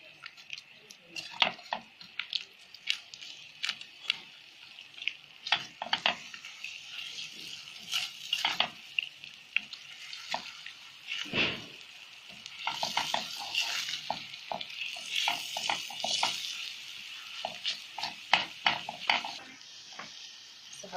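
Kofta mixture being stirred in a pan with a little oil, a busy string of scraping and clacking strokes over a low sizzle, close and uneven in rhythm.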